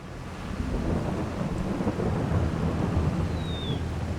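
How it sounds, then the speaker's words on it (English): Heavy rain from a loud thunderstorm in Farming Simulator 22 pours steadily with a low rumble of thunder rolling underneath, continuous and fairly loud. "That is a very loud thunderstorm."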